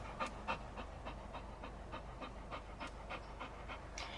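A dog pants in quick, rhythmic breaths close by, a steady huffing pattern that continues throughout with no talking.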